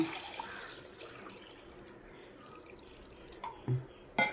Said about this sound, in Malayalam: ആ കപ്പിലേക്ക് ഒരു കപ്പ് വെള്ളം ഒഴിക്കണ്ട് നല്ല പച്ച വെള്ളം തന്നെയാണ്